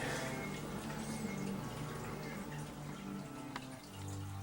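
Water running into a pot for lasagna noodles, a steady broadband pouring and splashing that keeps up for the whole span, close and at moderate volume with no talking.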